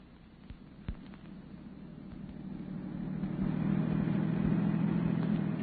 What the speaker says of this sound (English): Park the car here.